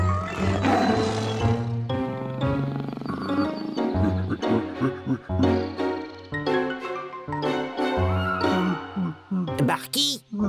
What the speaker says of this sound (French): Morphole, morphe-toi en tigre